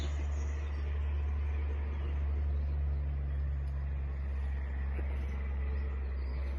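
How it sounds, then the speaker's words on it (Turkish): A truck or lorry passes outside near a forest, a steady low rumble with broadband road noise holding throughout at moderate level, no speech over it. "Şu kamyon bir tır mı neyse bir geçsin de."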